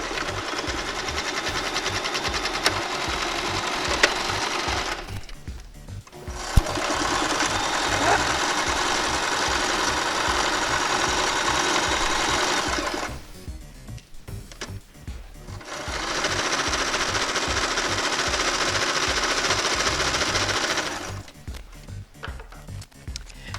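Sewing machine stitching the seams of a fabric puppet head, running in three long steady bursts of rapid mechanical whirring with short pauses between them, loud and close with no voices.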